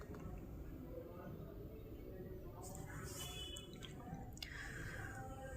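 Water drains from the opened drain valve of an LG top-load washing machine. It is a quiet, low-level trickle with scattered drips over a constant background noise.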